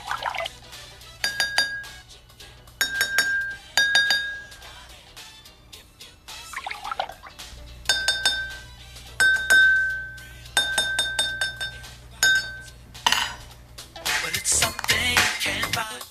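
Two drinking glasses being tuned with water to the same pitch, clear ringing tones struck repeatedly with pauses, water pouring in between and a splashy clatter near the end.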